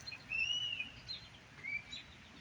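A few thin, high bird chirps and whistled tweets sound faintly over a quiet low background hum, with short pauses between calls and no speech.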